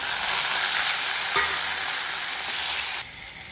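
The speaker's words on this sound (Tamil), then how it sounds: "வெங்காயத்தை சேர்த்து வதக்கிக்கலாம். தக்காளியை சேர்த்துக்கலாம்." Onion and tomato sautéing in oil with a mustard seed, urad dal, dried chili and curry leaf tempering for a brinjal gothsu: loud, close continuous sizzle with a brief stirring scrape, dropping off near the end.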